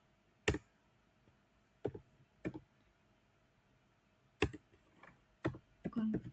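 A computer keyboard is tapped while router configuration commands are entered in a quiet room, with sparse, separate key clicks and short clustered bursts of typing, close and fairly soft.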